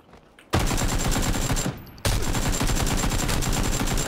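Rapid automatic rifle fire in PUBG, loud and close, in two bursts separated by a brief pause, with evenly spaced shots.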